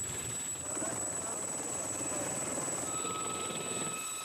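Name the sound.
helicopter of French special forces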